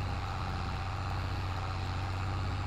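A Buehrer 6135 tractor in Farming Simulator 22 grunts along in fifth gear under load, a steady low diesel drone that holds constant and close throughout with no talk.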